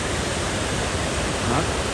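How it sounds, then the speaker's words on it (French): Small mountain waterfall at the start of a cascade, a steady broadband rush of falling water filling the whole clip at an even, close level with no talk. "Là, t'as la petite cascade."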